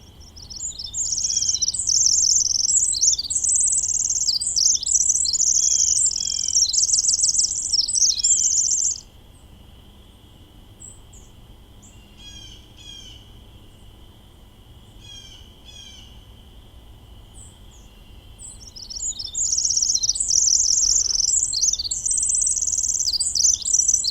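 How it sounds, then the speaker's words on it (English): A Pacific wren sings its long, complex song of rapid high trills and chirps in two extended bursts separated by a quieter pause with a few faint notes, all over a low, steady background. "So here's an example of a very complex song in the Pacific wren."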